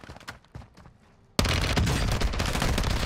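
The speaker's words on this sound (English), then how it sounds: "He is getting shot at." Gunfire in the Call of Duty Warzone video game: a few soft clicks and muffled pops, then a sudden loud, sustained burst of dense automatic fire that fills the rest of the clip.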